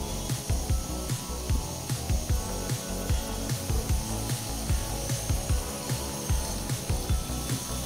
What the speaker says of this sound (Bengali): এবার নেড়ে চেড়ে ভেজে নেব।